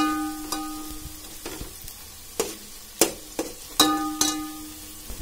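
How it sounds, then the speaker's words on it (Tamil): Onions sauté in a pan for prawn biryani, a constant soft sizzle broken by several sharp scraping strokes of a spoon stirring them, heard up close. "வெங்காயம் இப்போ நல்லா வதங்கிட்டு இருக்குது."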